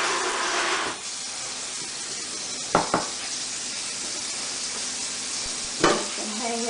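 A hose sprays water in a steady hiss over a Pak-o-Bird bag's messy bottom, with a few sharp clatters and knocks from handling the bag breaking through the spray.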